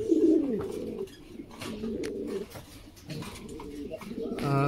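A pair of Golden Lahori pigeons, a breeding pair in a coop, coo in soft, low, repeated calls close by, with a few faint rustles between them.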